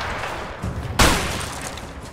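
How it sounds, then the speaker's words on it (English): Enemy gunfire in the video game A Way Out, a sharp loud burst of shots erupting about a second in and decaying over a noisy game background. "Why is he shooting at me?"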